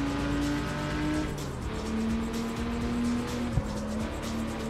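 Porsche engine droning steadily on a mountain road in the racing game CarX Street, a sustained tonal note with a pitch shift and a brief click partway through, continuous and close.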